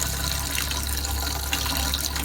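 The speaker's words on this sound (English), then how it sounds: "Look at all that water. It's still in the line, even though we opened the low point drain." Water rushes steadily from a travel trailer's faucet lines during winterizing, a broad continuous hiss and splash with a low rumble underneath, close and unbroken throughout.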